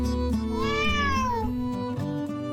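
A cat in the visual novel game Under Maintenance gives one drawn-out, rising-then-falling meow, close and clear over soft, steady background music.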